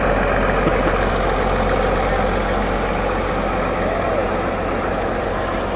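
A 1954 Case 500 diesel tractor rolls along in a parade with a steady, dense engine rumble that runs loud and continuous throughout, with crowd noise faintly mixed in.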